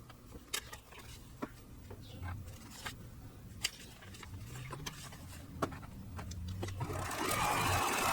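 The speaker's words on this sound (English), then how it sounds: "sew them both while I'm right here at the sewing machine" A sewing machine stitches fabric seams for a paper-pieced quilt table runner, a faint, steady mechanical whir with scattered light ticks and clicks, growing slightly louder toward the end, no voices.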